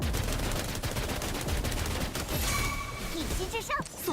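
Amoeba enemies firing lasers in the game Wuthering Waves, a rapid stream of sharp, crackling shots with a few rising zaps near the end.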